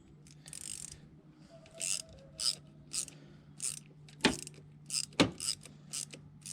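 A socket wrench fitted with a 7mm socket and extension works loose a hose clamp beneath the high pressure power steering line of a Volvo, giving short quiet ratcheting bursts at irregular intervals with a couple of sharper clicks.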